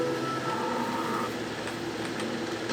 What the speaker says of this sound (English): Let's get in the car and let's drive around.